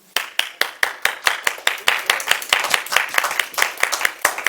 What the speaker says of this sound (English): if you see me start to applaud, you're all going to jump in very enthusiastically